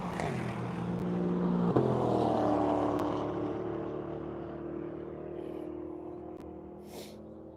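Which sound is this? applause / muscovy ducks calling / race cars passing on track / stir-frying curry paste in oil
race cars passing on track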